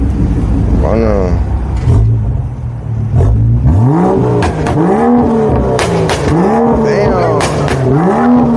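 A BMW M3 G80 revs hard at a car meet, its engine sweeping up and down in repeated loud, close climbs and falls, with people talking over and between the revs.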